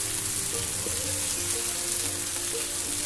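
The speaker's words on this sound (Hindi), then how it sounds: "इसके ऊपर हम घी डालेंगे" Ghee sizzles loudly on chicken chapli kebab cooking in a pan, a steady dense hiss of frying that stays even throughout, with no talking.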